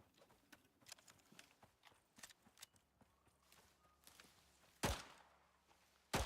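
A horse walks in the video game Icarus, its hooves clip-clopping in a quick uneven rhythm with soft thuds, ending in a couple of louder heavy impacts; no talking.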